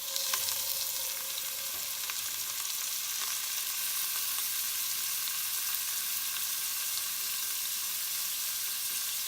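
Butter sizzles steadily in a hot pan alongside crisping crawfish, a continuous soft crackle with scattered faint pops, close and even for the whole stretch, no voices.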